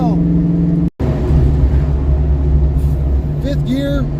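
A carbureted Ford Mustang with a recurved Duraspark 2 distributor cruises in fifth gear at about 45 mph and 1500 rpm. The engine gives a loud, steady low drone that rises gently and briefly cuts out near the start.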